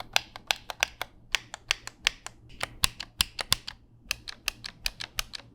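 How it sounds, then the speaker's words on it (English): Sharp plastic clicks from the triggers of a PS5 DualSense Edge controller, close and crisp, in quick irregular bursts of several taps with brief pauses, no talking. "you can actually hear a difference while clicking the triggers"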